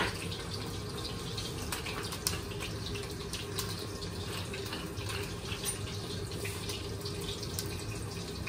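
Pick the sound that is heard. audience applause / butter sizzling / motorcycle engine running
butter sizzling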